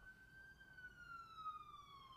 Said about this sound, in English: You hear that siren?